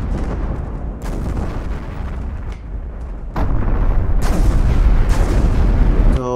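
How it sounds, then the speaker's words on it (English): A turret blows apart in the naval combat game From the Depths, with heavy booming blasts over a loud, rumbling battle din, several sharp explosions in a row. "oh, there goes one of the turrets."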